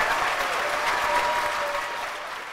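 Steady applause from a large crowd at a Toronto rally for the Thornhill MP and Conservative deputy leader Melissa Lantsman, dense continuous clapping that carries on without a break and eases slightly at the end.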